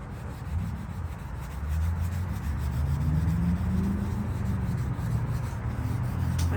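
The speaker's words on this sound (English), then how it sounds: "I don't want to sand too much." Wood hand-sanded smooth and scuffed with a steady, continuous rasping rub, close and fairly loud, running unbroken with no talking.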